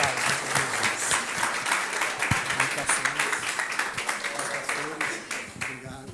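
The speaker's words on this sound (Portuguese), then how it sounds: "Vamos bater palma para ele." A church congregation claps together during a worship service, lively applause with rhythmic hand claps close by, mixed with voices and some cheering throughout.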